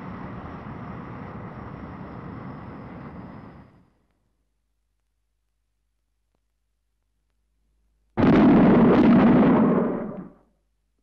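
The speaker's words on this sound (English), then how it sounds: "Those bangs were shock waves from an aircraft in transonic flight." Shock-wave bangs from an aircraft in transonic flight, heard as two loud rumbling bursts separated by a few seconds of silence, each sustained and broadband before fading out.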